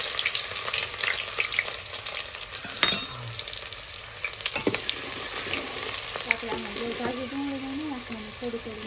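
Onions, garlic and green chillies drop into hot oil and fry with a strong continuous close sizzle, broken by occasional stirring clatters and a faint background voice.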